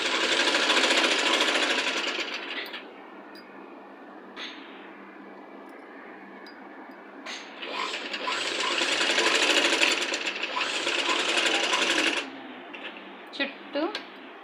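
Sewing machine stitching the neck of a child's Punjabi dress top, its fast needle chatter running in bursts with short pauses, close and moderately loud, while a voice talks over it.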